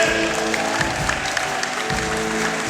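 Audience applause at a church choir gathering in Rwanda, steady clapping from a crowd that continues throughout without a break.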